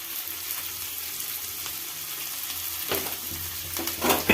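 Onions fry in oil with a little salt in a home kitchen, giving a steady close sizzle and crackle, with a few stirring scrapes and clatters near the end.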